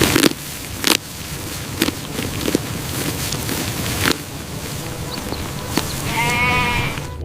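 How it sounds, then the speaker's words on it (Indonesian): A sheep bleats once near the end, a clear wavering call over a busy, crackly background broken by several sharp clicks. "ini ada domba"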